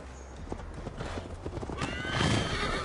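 A horse in Assassin's Creed Valhalla gallops with rapid clip-clopping hooves, then lets out a loud neighing whinny near the end, close and clear over faint ambient game sound.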